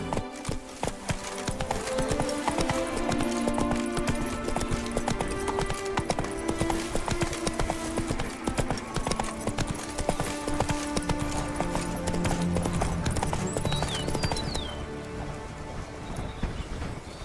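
Horse hooves clip-clopping at a steady trotting rhythm in The Witcher 3 video game, loud and continuous throughout, with faint rain-like patter and ambient game sounds behind.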